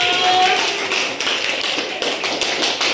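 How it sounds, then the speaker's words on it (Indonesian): A fourth-grade class applauds a classmate, many small hands clapping in a busy, continuous patter that carries on without a clear break. "tepuk tangan untuk Askia dulu"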